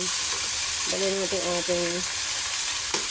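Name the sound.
chicken sautéing in oil in a pan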